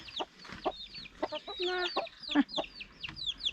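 Several chickens clucking and chattering close by, a busy overlapping mix of short clucks and higher calls.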